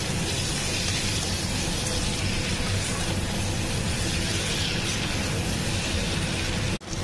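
Dried hilsa fish frying with brinjal in a hot pan gives off a loud, steady, close sizzle that runs unbroken, dropping out for a split second near the end.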